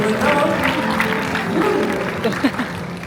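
A church congregation applauds and cheers during a service, steady clapping blended with loud voices and shouts throughout, fairly close and lively.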